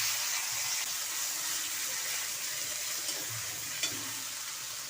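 Spice paste sizzling and frying steadily in a hot pan for a vegetarian potol curry, a continuous close hiss with faint stirring scrapes and a small clink near the end.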